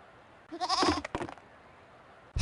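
A goat in a video game bleats once in a wavering, nasal cry, followed by a brief rustle and another sound starting at the end, fairly close and clear.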